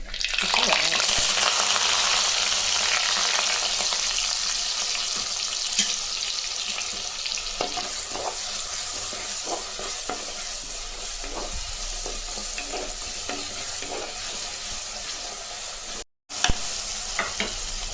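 Cinnamon and cloves fry in hot oil for a mutton thokku, with a loud, continuous sizzle close by. Occasional scraping stirs sound over the sizzle, and there is a brief dropout near the end.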